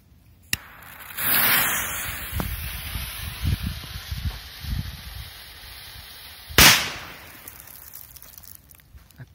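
A K05 firecracker buried in sand hisses as its fuse burns, then bursts in a single sharp, close bang, followed by a fading tail and small crunching sounds.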